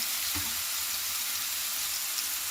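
Pumpkin pieces fry in a pan with a steady, even sizzle that holds at one level throughout, a faint low knock near the start and no voices.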